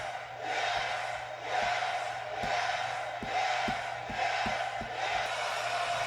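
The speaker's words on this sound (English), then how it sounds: "Crowd chanting, yes, they want it." A wrestling event crowd chants in a steady rhythmic roar, each phrase swelling and falling about once a second, with sharp claps or stomps marking the beat.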